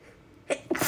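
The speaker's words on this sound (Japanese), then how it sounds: "くしゃみだからです。" A single close, loud sneeze bursts out in a quiet indoor room during a late-night livestream, with a short intake of breath leading into the sharp expulsion and no talk over it.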